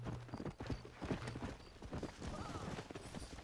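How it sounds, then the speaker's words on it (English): Horse hooves clip-clop in Red Dead Redemption, a quiet, steady run of hoof beats with faint background noise and a low tone early on. "call in my horse and go for a little ride"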